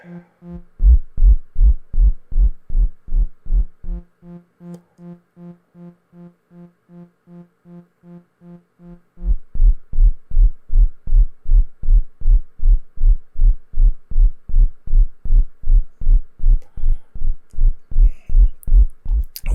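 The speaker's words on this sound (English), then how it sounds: "For those of you who like your techno style kicks" Techno-style kick from a Powertran Transcendent 2000 synthesizer in bandpass mode, a deep thudding pulse repeating rapidly under LFO-controlled speed, briefly softening and slowing before returning loud and fast.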